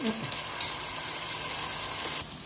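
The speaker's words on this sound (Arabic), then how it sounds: "احط بقى الرز واقعد اقلب فيه شويه" Rice sizzling and being stirred in a hot pan while it sautés, during chicken shawarma cooking; a steady broadband frying hiss runs throughout, with a brief low voice at the start and the sound dropping off near the end.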